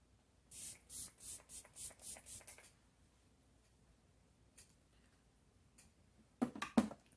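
A makeup setting spray is pumped onto a face in eight quick, close hisses in a steady row, followed by quiet and then a few louder rustling handling noises near the end.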